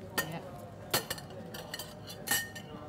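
Plates and cutlery clink as they are set on a table for a Somali meal, a few sharp separate clatters spaced over a few seconds against quiet room tone.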